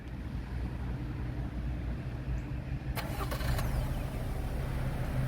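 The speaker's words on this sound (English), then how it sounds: "Vehicle started now." A 2022 Lexus NX Premium AWD starting: a steady low idle hum throughout, with a short crisp clicking and whirring burst partway in, then continued idling, close and even, no talking.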